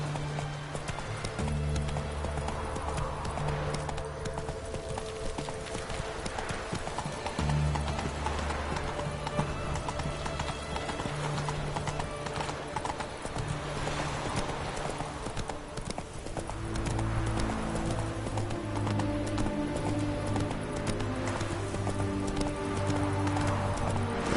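Roach the horse gallops in The Witcher 3, hooves pounding in a steady, continuous rhythm close by, with occasional low rumbling surges behind.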